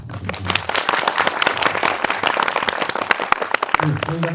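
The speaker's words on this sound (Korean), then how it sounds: "엔나인 필름 식구들에게도 박수 한번 부탁드립니다" An audience at a film screening Q&A bursts into dense, sustained applause that fills the room, with loud clapping from many hands and a voice speaking briefly at the start and end.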